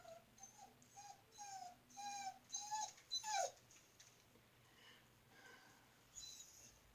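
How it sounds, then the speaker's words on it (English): A pet dog whines in a run of high, thin, rising cries, faint and somewhat distant, with short pauses between whimpers and one longer squeal near the middle. "If you hear the dog whining, he's fine"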